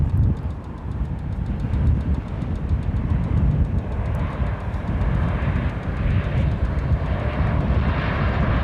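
An American Airlines jet takes off at DFW Airport, its engines producing a loud, sustained broadband roar that stays strong and steady throughout, with no voices.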